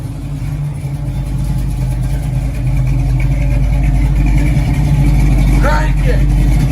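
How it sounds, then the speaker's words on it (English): A 1970 Chevy Nova with a blueprinted 383 V8 making 436 horsepower rumbles with a deep, loud, steady idle that swells slightly as it revs, up close, with a brief voice near the end. "Blueprint 383, 436 horsepower at the crank, 70 Nova."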